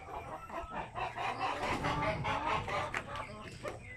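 A laying hen clucks steadily and close up over four seconds, in short repeated calls against a busy farmyard background.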